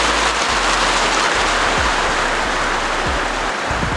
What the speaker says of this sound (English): Bloody started raining.